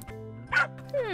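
A cartoon puppy gives a short bark and a whimpering whine, with a cartoon voice speaking around it, close and clear.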